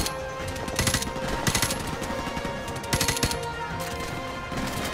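Gunfire in Call of Duty: Modern Warfare Remastered, loud sustained automatic weapon fire with several sharper bursts of rapid shots over a dense, continuous battle din.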